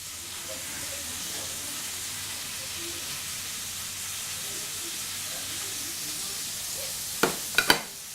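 Shredded cabbage and carrot sizzle steadily in a hot frying pan, a constant close hiss with a few sharp clanks of utensils near the end.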